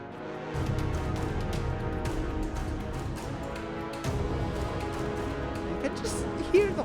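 A full orchestral brass section from a Spitfire sample library plays sustained chords with a quick upward rip near the end, moderately loud and alone, no voices.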